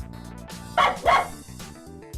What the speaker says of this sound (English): So the creature that doesn't belong here is a puppy.